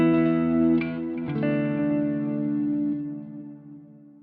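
Electric guitar played through a Quad Cortex patch recreating the Halo effect: sustained chords swell and bloom with ambient repeats and light drive, a second chord entering mid-way and slowly decaying, with no talking.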